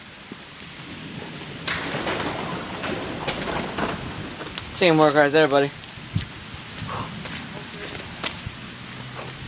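Hail patters steadily onto outdoor surfaces, with a few sharper impacts and a brief loud honking call partway through, under scattered talk between two people.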